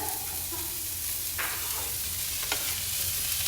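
Mushrooms going into a frying pan and being stirred, with a steady low sizzle and a couple of short scraping strokes. No talking.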